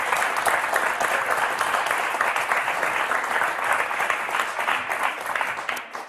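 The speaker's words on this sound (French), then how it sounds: "Est-ce qu'on vous a applaudi comme vous le méritez?" A television word-game studio audience applauds, a dense, even roar of clapping that holds steady throughout and then tapers slightly at the end.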